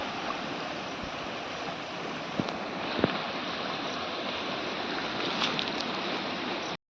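Strong river water rushing through a forest in Mayurbhanj, a dense, continuous roar of flowing water that stays loud and even from start to finish.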